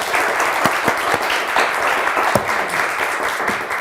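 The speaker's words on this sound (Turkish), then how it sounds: "Bize bir moral alkışı daha lütfen." Studio audience on a Turkish television word-game show applauding steadily for about four seconds, a dense continuous wash of many hands with no speech over it.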